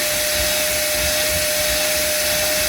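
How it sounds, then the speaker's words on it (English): A UWANT portable carpet cleaner sucks up dirty water from carpet, giving a loud, constant motor whine with airy suction noise that stays steady throughout, with no talking. "Don't push your button, and it will vacuum up the dirty water."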